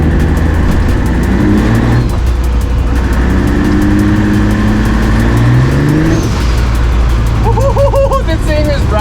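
A turbocharged MX3 car accelerates hard on a snowy road, its engine revving up through rising pitch sweeps with a brief drop between pulls, loud and close from inside the car, and a voice comes in near the end.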